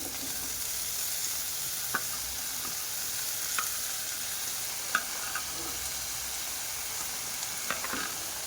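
Mixed vegetables go into hot masala in a pan with a steady, close sizzle and a few sharp spoon or pan clicks scattered throughout; no one speaks.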